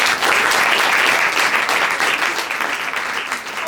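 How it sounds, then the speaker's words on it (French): Loud audience applause at an improv theatre show, dense clapping that swells at once and holds steady before easing slightly toward the end. "on peut applaudir très fort"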